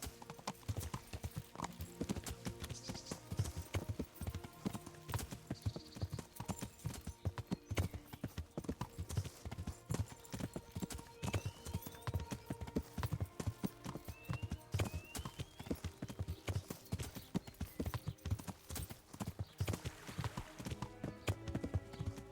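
Rapid, continuous clip-clopping of horse hooves at a steady gallop rhythm, loud and close, with a brief whinny in the mix, from the video game Kingdom Come: Deliverance.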